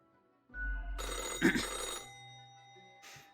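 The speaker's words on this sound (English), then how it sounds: "The old-fashioned phone again rings right as you settle in." Old-fashioned telephone ringing in a video game, a loud bright ringing burst lasting about a second and a half, then dying away, with a faint second ring starting near the end.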